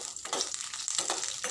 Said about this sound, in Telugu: ఇవి బాగా వేగించేద్దాం.